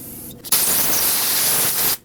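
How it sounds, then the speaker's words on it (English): Brake parts cleaner sprayed onto the brake caliper of a 2009-2015 Honda Pilot during a brake hose replacement, a loud, close, steady hissing blast lasting about a second and a half, with shorter bursts before and after. "Rinse it off with brake parts cleaner."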